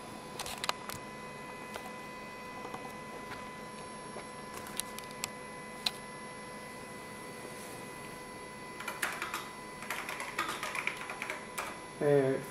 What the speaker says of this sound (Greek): Θα το πληκτρολογήσω λίγο.